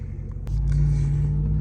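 A Ram TRX truck rumbles deep and loud at night, a sharp click followed by a sustained low engine drone with a steady supercharger-like tone layered over it.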